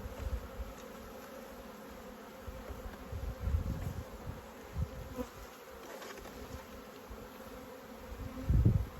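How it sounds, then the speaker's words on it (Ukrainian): Honey bees carrying honey buzz around a hive from which a swarm has escaped, a close, continuous hum of many wings that swells now and then as individual bees pass near, with no talking. "Жменя бджіл. Мед несуть."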